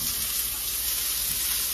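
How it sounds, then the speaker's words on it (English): Tomatoes dropped into hot oil give a steady, hissing sizzle that holds evenly from start to end, close and continuous with no talking over it. "They'll start to saute."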